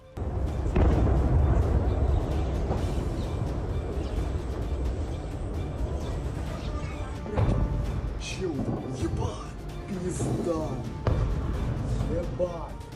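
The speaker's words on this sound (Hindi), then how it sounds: "दिल दहलाती तोपों की दहाड़।" Heavy booming artillery fire in the Cambodia–Thailand war rolls through the clip with repeated deep blasts, loud and sustained, while voices speak over the rumble.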